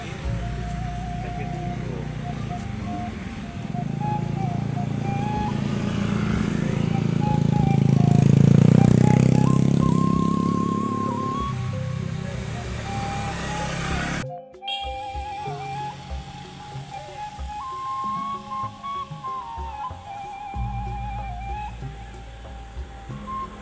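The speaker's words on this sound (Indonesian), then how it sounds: "dan banyak motor juga di belakang kayaknya." Motorcycles and cars of a groom's wedding convoy roll through a remote village, engines swelling loudly as they pass close, with a melodic horn or music tune and people talking in the background.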